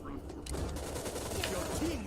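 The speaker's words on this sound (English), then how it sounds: "That's a lot of fucking turrets." Turrets fire in the cartoonish strategy game Tooth and Tail, a dense, continuous rattle of rapid gunfire heard under a soft background layer, steady throughout.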